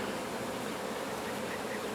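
A honey bee swarm buzzes in a dense, continuous drone during a thunderstorm, many insects humming close and steady with no voices.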